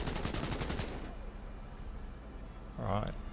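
Enemy gunfire in the video game Cyberpunk 2077: a rapid automatic burst of shots at the start, then a lull and a single heavier blast near the end, heard over game background noise.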